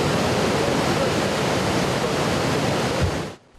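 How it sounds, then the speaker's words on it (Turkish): Floodwater rushes loudly and continuously through an overflowing stream in Zonguldak after heavy rain, a dense close roar that cuts off abruptly near the end. "Mevsim normallerinin çok üzerinde yağan yağmur dereleri taşırdı."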